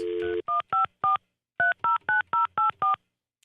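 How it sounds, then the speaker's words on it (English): Telephone keypad tones: a brief tone, then a quick series of evenly spaced dual-pitch beeps with a pause partway through, clean and close. "you dial in"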